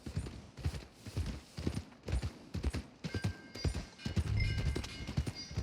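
Horse hooves clip-clop in a steady walking rhythm in the video game Red Dead Redemption 2, close and clear, with a faint ringing tone in the background.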